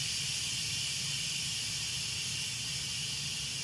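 Steam hisses out of an Instant Pot's pressure release vent in a steady, loud, unbroken rush that lasts the whole stretch, with no talk over it.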